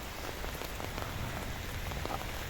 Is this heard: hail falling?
yes